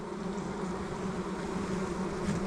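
Honey bees swarm around a hive on a farm apiary, a dense, steady, close buzzing hum with no pauses and no talk.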